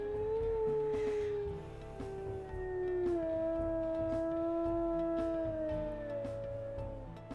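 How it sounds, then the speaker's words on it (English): A long, sustained wolf howl from WolfQuest fills the whole stretch, its tone gliding and wavering, loud and close, with a faint steady hum beneath. "One of the longest howls in history"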